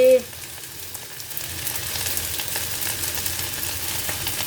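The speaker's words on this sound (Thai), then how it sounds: "มะม่วงหิมะพานาผัดเลยจ้า" Cashew nuts stir-fried in a pan for vegetarian fried rice, a steady close frying hiss after a brief initial clunk, with no one speaking.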